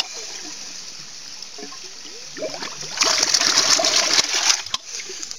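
Water splashing and gushing from the output of a homemade DIY ram pump, faint trickling at first, then a louder sustained rush of spray.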